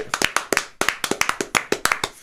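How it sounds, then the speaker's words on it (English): Studio audience applauding a comedian guest as he walks on at a talk show, a run of sharp, fairly close claps in a quick irregular rhythm without speech. "Huge round of applause for Dan."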